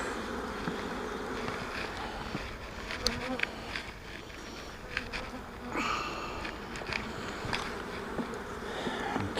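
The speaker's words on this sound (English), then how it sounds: "That's three frames of bees." Honey bees buzz around hive frames being shaken out, a dense, steady, fairly soft drone of many insects close by, with faint knocks and handling sounds.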